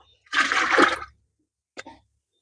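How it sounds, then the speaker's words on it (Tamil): Fermented tomato liquid fertilizer, about one and a half litres, poured into roughly ten litres of water on a terrace garden: a loud, rushing splash lasting under a second, followed by a brief second splash. "ஒரு ஒன்றரை லிட்டர் அளவுக்கு நான் ஊற்றுறேங்க"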